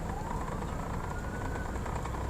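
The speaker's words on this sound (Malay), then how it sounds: "Oh, ada ambulans mau lalu lah." An ambulance siren wails faintly through steady road noise in heavy traffic in Kuantan, Malaysia, heard from inside a car as the vehicle approaches to pass.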